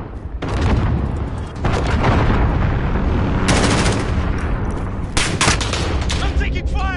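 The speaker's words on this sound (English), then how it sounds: "I'm taking fire" Heavy sustained gunfire in a multiplayer shooter match, with bursts and rattling volleys loud and near, ringing over continuous battle noise while a voice talks.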